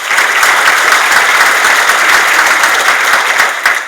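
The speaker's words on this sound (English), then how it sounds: "Please give him a round of applause." A crowd at a high school awards ceremony claps loudly and continuously, a bright dense roar of many hands close by.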